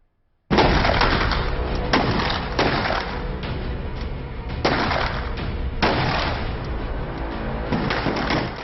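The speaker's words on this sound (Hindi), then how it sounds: "वीडियो में जिस तरह से अतीक का परिवार गोलियां चला रहा है" Members of Atiq's family fire guns in rapid succession, a dense, loud, continuous barrage of close cracking shots whose rhythm swells and eases for several seconds without a break.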